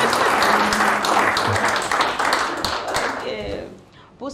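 Applause fills a television studio during a special Easter broadcast, a dense burst of clapping that gradually thins and fades toward the end, with a voice speaking briefly.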